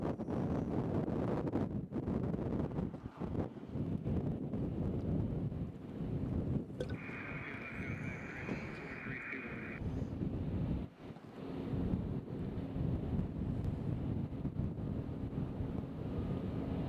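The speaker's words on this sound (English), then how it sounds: "As the wind's picked up" Wind blowing at Nashville International Airport: strong, continuous gusty rushing and microphone buffeting, loud and close throughout, with a faint steady tone briefly audible in the middle.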